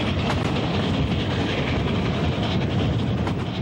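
An early 20th century steam train on the Western Maryland Scenic Railroad rumbles past at close range, a continuous heavy roar with rhythmic wheel clatter and no voices.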